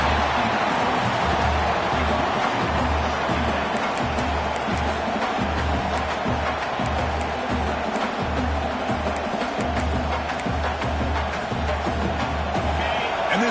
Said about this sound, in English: Crowd coming to life here, trying to help the defense get a stop